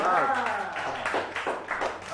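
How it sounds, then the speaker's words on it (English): Children at a public-speaking class clapping for a classmate, a short burst of quick, uneven claps up close, with speaking voices mixed over the applause. "Give a clap."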